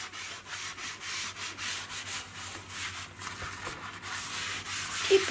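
An old sponge scrubs the inside of a kitchen drawer where spoons were kept, giving a steady, close, soft rasping rub that runs throughout with no talk.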